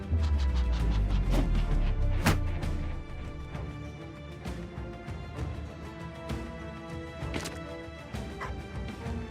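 Dogs bark in the video game Battle Brothers, several sharp yaps and thuds in the opening seconds over heavy game sound, then quieter scattered barks within the ongoing soundscape.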